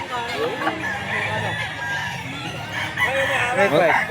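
A Boston roundhead gamecock crows at a busy pet market, its drawn-out crow rising near the end. Market chatter and other birds fill the background.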